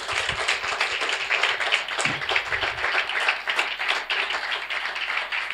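A church congregation clapping together to acclaim the Lord, sustained dense applause from many hands with no pause, steady and fairly loud throughout.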